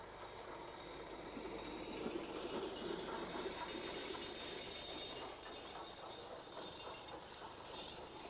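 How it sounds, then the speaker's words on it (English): Immingham-based B1 steam locomotive 61406 rattles south through Retford station, a steady rolling clatter of wheels and wagons with continuous rumble and no voices. "Immingham B1 number 61406 rattles south through the station"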